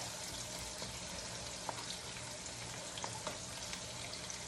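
Chopped onion frying lightly with a pinch of salt in a pan, giving a steady, even sizzle with faint crackles and pops and no talking.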